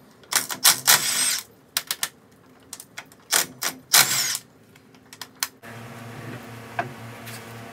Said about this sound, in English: let's jack this up and take this wheel off